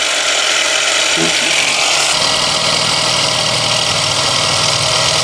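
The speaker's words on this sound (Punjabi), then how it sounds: "ਹੁਣ ਉਹ ਜਿਵੇਂ ਚੱਲ ਪਿਆ ਹਨਾ ਇੰਜਨ" A tiny homemade mini tractor's small engine runs steadily and loudly at close range, a continuous mechanical drone with a brief clanking shift early on.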